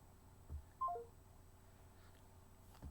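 Telephone keypad dialing, a short quick run of three descending tones over faint room hiss, with a soft thump just before.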